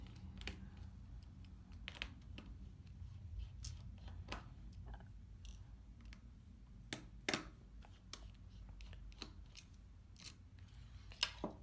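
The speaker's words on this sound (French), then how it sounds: "On va retirer les vis qui se trouvent sur la carte mère." Small screws are backed out of the motherboard of a Startrail 6 Plus 4G smartphone, giving faint, scattered clicks and ticks at an irregular pace against a quiet background.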